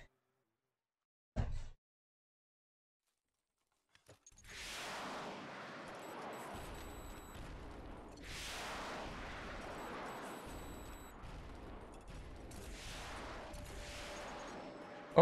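Explosive-ammo gunfire from the XM-4 Titan in the zombie shooter game Into the Dead 2 begins after a brief thump: booming blasts roll one into the next in heavy surges and keep going for about ten seconds.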